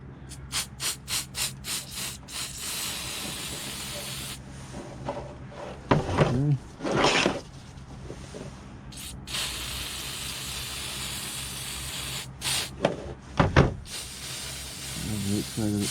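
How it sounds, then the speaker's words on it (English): Spray cleaner squirted to clean out a pipe: a quick run of short, close hissing bursts at the start, then scattered handling noises and a few more sharp spray bursts later. "I can use that same spray to clean out this pipe"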